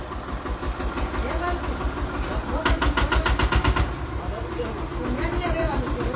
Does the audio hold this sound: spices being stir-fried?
no